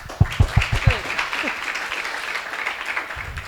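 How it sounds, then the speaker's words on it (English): An audience at the EU Green Power Transformation Forum 2023 in Eswatini applauds award-winning companies. A few sharp, distinct claps open into steady crowd applause that carries on throughout. "So maybe we can give them also a round of applause."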